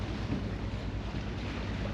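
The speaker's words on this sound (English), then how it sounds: "We're motoring along here and going south in Bora Bora" A sailboat motors south past overwater villas in Bora Bora under engine power, its steady low engine drone running beneath constant wind and water rush, close and even throughout.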